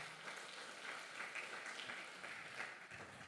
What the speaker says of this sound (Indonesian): Tepuk tangan buat Tuhan kita.